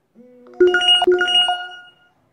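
A phone plays a short melodic message notification tone of a few rising and falling electronic notes, clear and close, with no talking over it, during a Paytm wallet-to-bank transfer.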